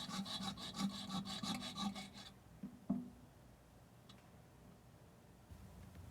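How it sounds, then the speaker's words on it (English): Sawing off a toilet flange bolt just above the nut: a steady rhythmic rasping of blade strokes for about two seconds, then a small clink and quiet room tone. "Cut off the bolt just above the nut."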